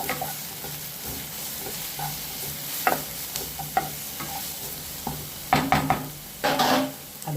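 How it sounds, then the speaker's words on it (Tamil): Chopped onions sautéing in a pan for chicken curry: a steady background sizzle with intermittent stirring scrapes, growing louder in bursts near the end, no voices. "வெங்காயம் நல்லா வதங்கட்டும்."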